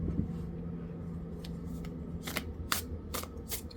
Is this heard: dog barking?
no